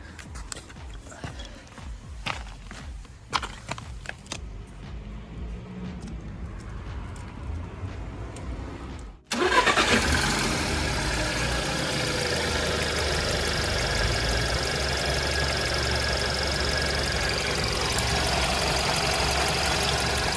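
Scattered clicks and clatter, then the 1.4 TSI engine of a 2011 Volkswagen Touran with DSG cranks and catches, settling into a steady, slightly rough, slightly shaky idle without smoke that runs on loudly.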